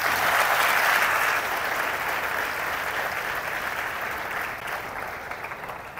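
Sustained audience applause for a team at a Marathi motivational talk on employability skills, a dense steady wash of clapping that slowly thins over six seconds, with no talk.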